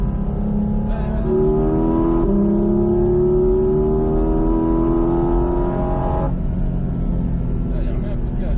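A Porsche Cayman 718 GT4 RS engine revs and climbs steadily in pitch as the car accelerates around the Mas du Clos race circuit, loud and close from inside the cabin, with a voice coaching over it.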